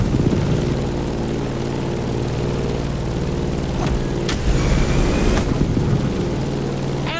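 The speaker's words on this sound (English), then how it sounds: "In the cockpit of a stunning Grumman F8F Bearcat" A Grumman F8F Bearcat propeller plane in The Crew Motorfest drones with a loud, steady piston engine roar and dense, rumbling propeller buzz that continues throughout, with a couple of brief whooshing sweeps, no voices.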